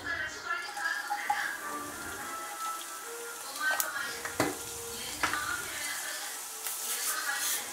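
Mustard seeds sizzle and crackle in hot sesame oil as tempering for vatha kuzhambu, a soft steady frying hiss with scattered pops and stirring sounds, while a voice speaks over it at times.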